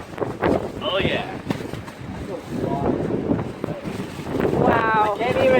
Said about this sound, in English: Holy smokes, it is windy.